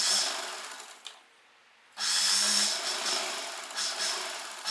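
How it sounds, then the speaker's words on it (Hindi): A sewing machine stitches a straight seam on leftover fabric for a child's kurta pajama set, running in a steady whirring burst, pausing for about a second, then resuming close and even. "हम सीधी से सिलाई लगाएंगे"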